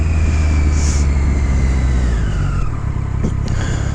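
Triumph Daytona 675 R sport bike engine while riding, a loud continuous close drone with a rising then falling whine as the revs change, mixed with wind rush.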